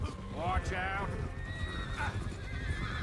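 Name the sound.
horse neighing in Red Dead Redemption 2 video game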